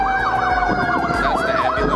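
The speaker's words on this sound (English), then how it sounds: "That's the ambulance, but dang, it's pretty loud." A loud ambulance siren wails close by, its rising and falling tone repeating quickly over low traffic rumble.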